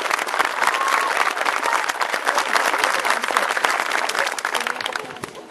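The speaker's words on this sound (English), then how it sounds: "Please help me join together and give them a round of applause as well." Steady round of audience applause at the groundbreaking ceremony for a new Davie County High School; full, even clapping from a crowd that holds for several seconds before starting to fade.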